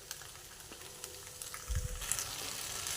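Atta chowmein is stirred with tomato ketchup in a hot pan, a soft close sizzle with light scraping and a louder burst of frying partway through.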